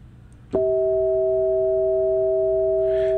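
After a brief click, two steady pure sine tones sound together and hold without change, bright and constant.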